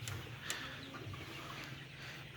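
Sonali chickens, grown to around 45 days old, cluck in a steady low chorus on a poultry farm, with a few sharper calls rising above the constant flock murmur.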